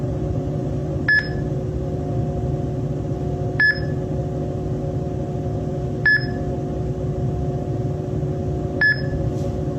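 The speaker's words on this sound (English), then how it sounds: "when you hear the auditory feedback or the beep, that is just signifying that her movement was enough to make the selection" An access switch controller gives short electronic feedback beeps, four evenly spaced single tones over a steady low hum, clear and fairly prominent with no one talking.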